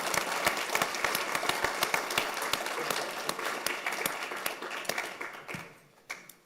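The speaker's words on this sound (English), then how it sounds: "let's give one big round of applause for all of our outstanding competition teams" Applause from an audience at a university data science business plan competition, honoring the competing teams: dense, sustained clapping that fills the room, tapering off near the end.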